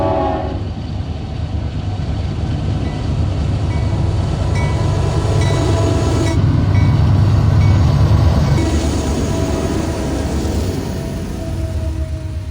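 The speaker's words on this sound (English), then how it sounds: "The things we do to get a train going by." A freight train passes by in the Mojave desert, a loud continuous rumble of rolling cars and wheels that swells and then eases, with a horn sounding early on.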